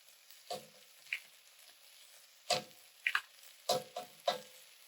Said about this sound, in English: we're going to let this saute up for about 10 minutes or until it turns brown